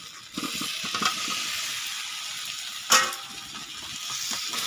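Potatoes stirred into a well-fried spice masala for veg aloo dum, a close steady sizzle with scraping stirs and one sharp clatter midway, no voices.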